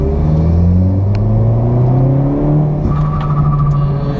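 A 1.6 turbo Corsa VXR engine revs loudly and close, pitch climbing and settling in smooth sweeps with a steady throaty drone and no talking.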